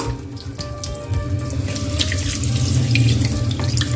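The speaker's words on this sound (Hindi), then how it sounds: "मछली को अब हम धोएंगे खुले पानी के अंदर" Fish pieces for frying are rinsed under a running kitchen tap, a loud, continuous gush of water into the sink with small splashes as the pieces are handled close by.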